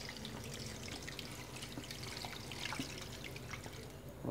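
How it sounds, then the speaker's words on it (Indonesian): Water poured to fill a container for boiling a leaf-based remedy: a faint, steady trickle and splash with small drips, quiet and close, with no talking. "Masukkan air. Kita masukin air penuh full."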